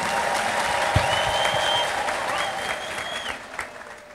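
Sustained clapping from a church congregation fills the space, dense and even, with long high ululating trills rising above it in two clear waves.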